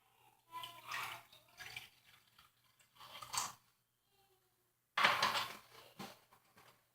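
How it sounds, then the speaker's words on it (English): A cup of water is poured into a cooking pot of arroz con pollo over high heat, heard as several short splashing bursts separated by brief pauses. "I'm going to put in 1 more cup of water here"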